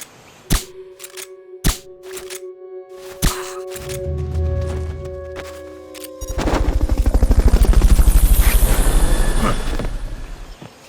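Helicopter in the Metal Gear Solid Peace Walker video game, a sustained low rotor roar swelling loudly over several seconds after a few sharp separate game thumps and tones, with no talk.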